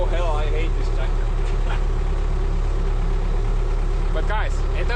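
A tractor engine runs at a steady idle, a low constant rumble close by, while someone talks over it.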